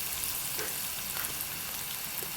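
Mackerel curry sizzles and fries steadily in a pan while being stirred, a soft, even hiss with faint scraping, quiet and close, with no talking.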